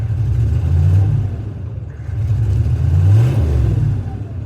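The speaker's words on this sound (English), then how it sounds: "It's got a little backfire sound to it too. Sometimes. But you can hear there's a little skip to it." A GM 6.5 diesel engine idles nearby with a rough, uneven rumble, its pulsing note surging and dipping as it skips.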